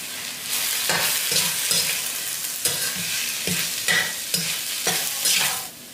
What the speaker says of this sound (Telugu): ఇప్పుడు ఈ పచ్చి కొబ్బరిని కూడా 1 నిమిషం పాటు వేపుకుందాం.